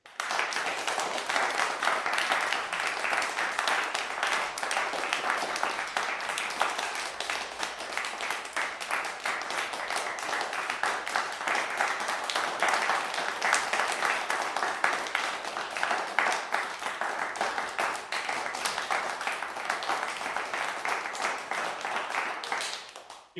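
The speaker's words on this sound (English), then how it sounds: "We give Vincent a huge applause" A lecture audience claps on its feet for about twenty-three seconds in a dense, steady applause, moderately loud and unbroken.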